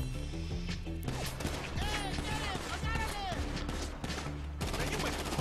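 Gunfire in GTA 5 during a bike repossession that goes wrong, rapid bursts of shots mixed with game sounds and music, with people talking over the action.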